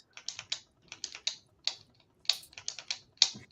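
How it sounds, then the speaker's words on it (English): Pen clicked over and over in quick irregular bursts, sharp close ticks in small clusters separated by short pauses, with no talking. "I'm clicking the pen just to be annoying."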